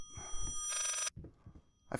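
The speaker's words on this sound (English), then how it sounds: "the phone comes right back up and starts ringing" A telephone ring in the video game Layers of Fear bursts in for about a second between short low thumps and noises, then a second ring starts at the very end.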